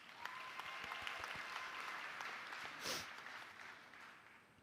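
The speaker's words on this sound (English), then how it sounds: "Give yourselves a round of applause." A commencement crowd applauds steadily, a dense wash of clapping that holds at an even level throughout, with a brief louder swell near the end.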